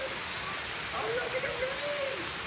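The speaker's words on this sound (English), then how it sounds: "We're gonna go out there in the rain" Steady outdoor rain falling and spattering on surfaces, a dense continuous hiss with faint voices briefly audible beneath it.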